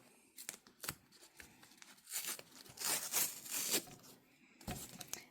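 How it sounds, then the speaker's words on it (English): Tape being peeled off an embroidery hoop during an in-the-hoop coffee cup carrier project, a few close, soft tearing and ripping strips with crinkling in between, no talking. "So now we're going to remove our"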